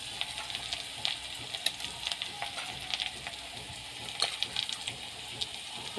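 Chopped onions with whole cumin sizzle in hot oil in a kadai, a soft, steady frying hiss with occasional small metallic clinks and stirring sounds. No talking.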